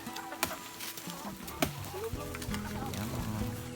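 Native chickens cluck and call around a rural Philippine farmyard, soft scattered clucks with a few sharper calls, moderately distant, mixed with people talking and background rustle.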